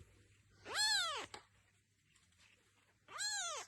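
A young ginger cat gives two clear, drawn-out meows, separated by a couple of seconds of near silence, quiet and close against a faint low hum.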